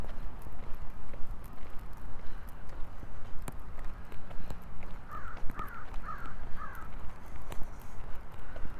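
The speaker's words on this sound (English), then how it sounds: "Crow has something to say up there somewhere." A crow caws four times in quick succession from somewhere up in the trees near Willow Island during an outdoor walk in Regina, fairly clear at middle distance over footsteps and open-air background noise.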